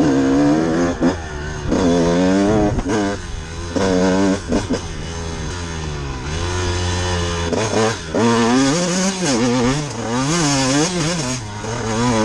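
A motorcycle riding past on a road, its engine loud and close, revving and rising and falling in pitch as it passes; no one talks.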